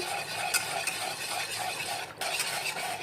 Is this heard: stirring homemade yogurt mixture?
yes